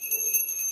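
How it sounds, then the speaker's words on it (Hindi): A small brass prayer bell rings during a home puja to Hanuman. Its bright, steady metallic tone sustains evenly through the whole moment, heard alone and with no voices. "घंटी बजेला छोट घंटी"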